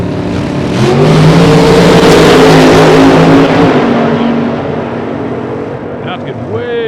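A supercharged big-block drag racing car roars loudly down the strip in a Las Vegas run, the engine howl building and then fading away over several seconds.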